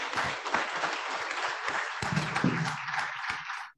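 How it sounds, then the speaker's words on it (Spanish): An audience at a colloquium on digital labour rights applauds a doctor who moderated a panel, with brisk, steady clapping from many people throughout, plus a brief lower murmur partway through before it cuts off. "Un aplauso a la doctora, por favor."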